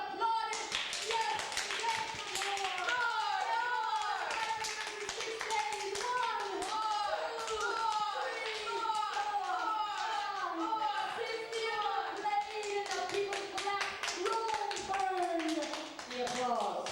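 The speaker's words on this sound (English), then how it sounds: "the applause stopped." Dense, steady applause from a live theatre performance audience, many hands clapping close and continuously throughout, with some voices mixed in underneath.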